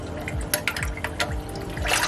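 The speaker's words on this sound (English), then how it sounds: "splashing away, chomping away" Hatchlings splash in a shallow water tub as they eat, giving a steady run of close, bright watery splashes and small drips with a few sharper slaps.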